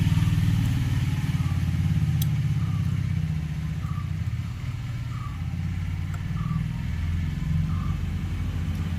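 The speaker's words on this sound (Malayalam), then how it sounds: "ഇപ്പോൾ വണ്ടി സ്റ്റാർട്ടായിട്ടുണ്ട്" Bajaj Pulsar AS200/NS200 motorcycle engine running after a fuse replacement, a steady low idling rumble with a regular pulsing beat, close and continuous with no talking.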